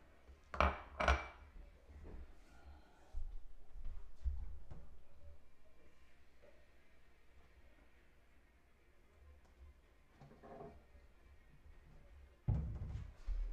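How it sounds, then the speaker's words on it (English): A utensil stirs melted butter into batter in a bowl for a keto tamale pie, giving soft scraping with sharp metallic clinks against the bowl, clustered near the start and again toward the end. "So mix in the melted butter"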